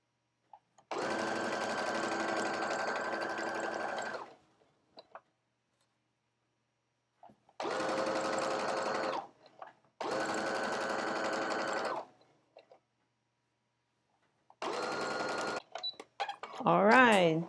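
Sewing machine stitching the side seams of a 1920s flapper dress, running in four separate bursts of a few seconds each with pauses between, close and steady, with a brief squeaky sound at the end.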